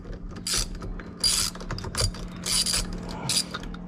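A breaker bar loosening a very tight bolt on a Tesla Model 3/Y steering wheel: close ratcheting clicks in repeated bursts, each a quick rattling run of pawl clicks, with short pauses between and a steady low hum beneath.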